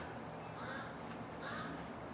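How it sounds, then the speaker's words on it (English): A couple of distant crow caws, spaced apart, sound faintly against steady outdoor ambience. "I've got a crow talking trash to me."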